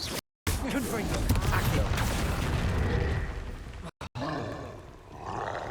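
A Confringo fire spell cast in the video game Hogwarts Legacy, a loud, dense roaring blast that rumbles on for several seconds, cut by brief gaps, with a voice shouting over it.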